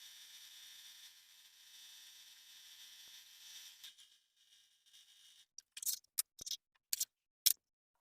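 Thread cut by hand with scissors at a sewing machine while sewing a child's snail costume: after a steady faint hum, several short, crisp snips and clicks come close together near the end.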